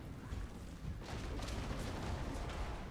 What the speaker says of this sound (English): Some early cannon shots finding their mark, taking out some of the big uns